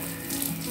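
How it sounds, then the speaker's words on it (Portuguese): Garden hose or watering can spraying water onto plants on a hot morning, a steady close hiss and patter of water running continuously without pause. "como é bom acordar de manhã e vir molhar as plantas"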